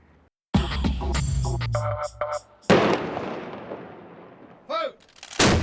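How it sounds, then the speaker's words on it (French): A ceremonial cannon salute fires in Monaco, its first booming shots cracking loudly and rolling off in long echoes, with smaller pops and whistling fireworks-like sounds between them. "le premier coup de canon qu'attendaient avec impatience les Monégasques résonne"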